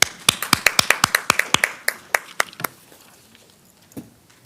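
A scattered round of applause from a school board meeting audience: a quick run of sharp, separate hand claps that thins out and fades to a couple of isolated claps in a quiet room.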